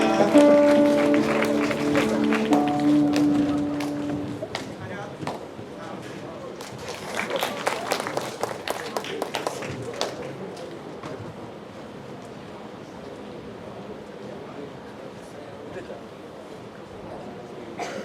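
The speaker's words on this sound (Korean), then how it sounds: "우리 수고한 3학년 3반 학생들에게 다시 한번 격려의 박수 주시기 바랍니다." A school chapel audience claps for class 3-3 students after their special song, the applause swelling into a dense patter and then thinning out, with a voice speaking at the start.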